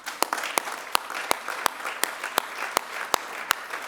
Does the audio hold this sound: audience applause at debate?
yes